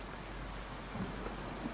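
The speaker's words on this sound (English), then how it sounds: "It's raining constantly." Steady, dense rain hisses constantly in the horror game Silent Mementos, a broad even wash with faint low rumbles beneath and no talk.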